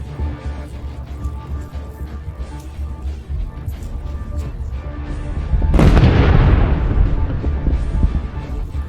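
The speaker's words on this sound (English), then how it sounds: "The first explosion stopped an APC, while a nearby tank triggered a chain blast." A landmine blast under an armoured personnel carrier and a tank's chain blast in a battlefield minefield: a sudden, loud, deep boom bursts in after several seconds of rumbling background, then rolls on as a sustained roar.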